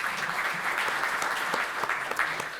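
Steady applause from a seminar audience at a political party's conference on lessons from the Ukraine war and Korean security policy, continuous and fairly even throughout with no break.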